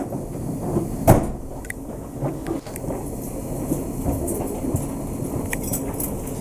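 An XPT train door slides open and shut inside a moving carriage, with a sharp thump followed by scattered clicks and rattles over a continuous rolling rumble.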